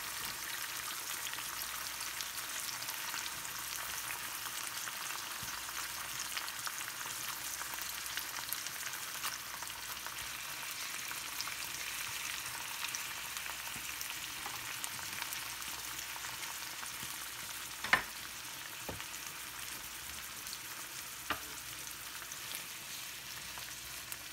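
Canned corned beef frying in a pan as it is broken up: a faint, steady hiss of sizzling oil with a couple of brief sharp clicks from the utensil, no voices.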